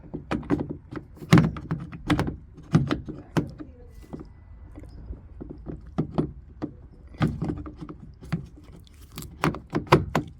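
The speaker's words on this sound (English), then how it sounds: "Pulling here with my other hand and screw it on, and the door handle goes in" A door handle being fitted on a Mercedes GLE 350 car door, heard as a series of close, sharp plastic and metal clicks and knocks in irregular clusters over a quiet background.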